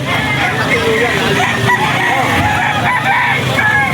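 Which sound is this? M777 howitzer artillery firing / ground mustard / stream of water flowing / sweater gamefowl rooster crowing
sweater gamefowl rooster crowing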